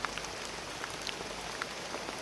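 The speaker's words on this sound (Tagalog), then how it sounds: "Ngayon sobrang lakas talaga ng ulan tol." Heavy rain pours down in a steady, dense roar of drops with a few sharper splashes on top, close and fairly loud, with no voices.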